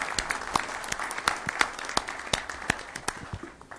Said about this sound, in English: Let's give Senator Greg Ball another round of applause and thank him for being here.